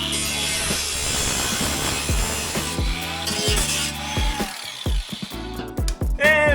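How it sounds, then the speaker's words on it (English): Angle grinder cutting through a car heat shield on a V8 Toyota, a steady loud whine and rasp up close that breaks into short bursts toward the end. "grab the grinder"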